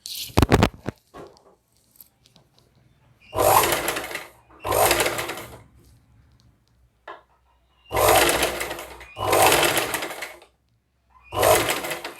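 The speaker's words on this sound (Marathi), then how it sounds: "अगदी अगदी हळूहळू शिवते आहे मी" A domestic sewing machine stitches an embroidered-design blouse slowly, running in several short bursts of a few seconds each with quiet pauses between, starting after a couple of sharp clicks.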